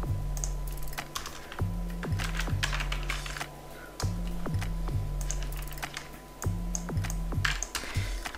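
Rapid computer keyboard typing while entering text in Photoshop, steady clusters of close, crisp key clicks with brief pauses, no voices over it.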